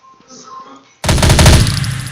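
Rapid automatic gunfire erupts in a first-person shooter video game after a quiet moment, a loud, close burst of repeated shots that fades out gradually.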